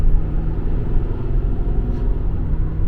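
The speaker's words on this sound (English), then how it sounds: "Gotta accelerate here." A diesel pickup accelerates on a snowy road during winter plowing, its engine a loud, steady low rumble close to the microphone with no talk over it.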